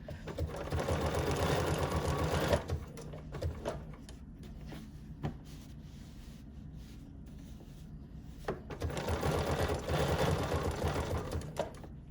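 A quilting sewing machine with a stitch regulator runs in steady bursts of rapid needle stitching, pausing in the middle with a few soft clicks and bumps before starting up again, close and moderately quiet with no voices.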